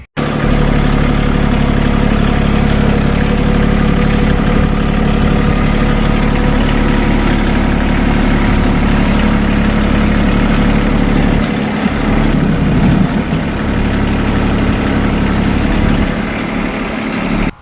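A heavy tractor engine idles loudly and steadily for the whole stretch, a constant low rumble with slight fluctuations near the end, with no voices.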